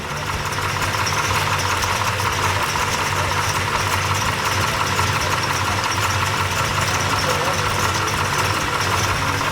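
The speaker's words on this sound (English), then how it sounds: "when this thing starts, you hear the module pulsing the electricity more than you hear the fan when it's initially running up and running back down" Electric cooling fan from Derale, with a PWM controller module pulsing its power, fitted to a 1964 Ford Galaxie 500 XL V8; a steady, loud, continuous mechanical whir and hum runs unbroken throughout.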